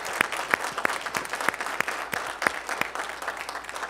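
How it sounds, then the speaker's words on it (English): A town hall audience in southwest Atlanta claps steadily, a moderately loud, sustained round of applause with individual sharp claps standing out throughout. "Give him another round of applause."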